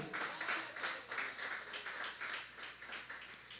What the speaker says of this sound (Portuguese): Vamos até dar um aplauso ao Senhor pelo milagre.